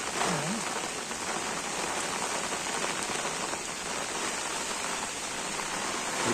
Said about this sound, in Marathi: पाऊस पण आलेला आहे जोराचं जोराचा पाहू शकता